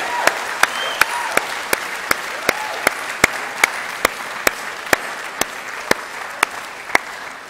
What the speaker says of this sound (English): Can you just give me a round of applause for your teachers and the support staff at Highbury?